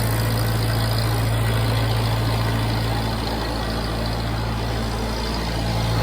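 A vintage Farmall Cub tractor engine idles after a hand-crank start in 32-degree cold, a steady low chugging drone held close and loud throughout with no talking.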